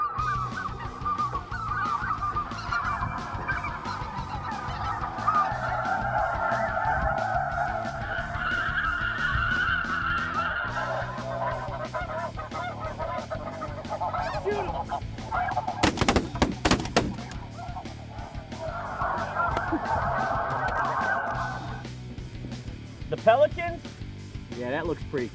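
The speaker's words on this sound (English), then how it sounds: "is that a snow goose?" Snow geese honking from a hunting blind, repeated nasal calls rising and falling over a long stretch, with people talking, a sharp burst of noise partway through and more calling afterward.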